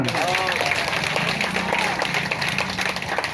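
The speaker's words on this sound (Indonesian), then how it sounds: "Tepuk tangan teman-teman." Audience applause at a public discussion forum, a dense wash of clapping from a seated crowd throughout, with a voice talking over it.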